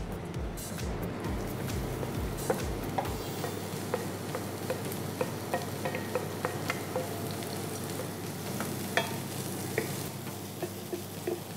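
Onion and garlic frying in olive oil for shakshuka, a constant dense sizzle with scattered crackles and pops, steady and close throughout with a low hum fading out early on.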